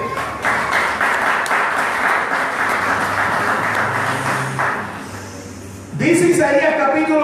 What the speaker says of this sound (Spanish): ¿Cuántos pueden darle un aplauso al Eterno por esto?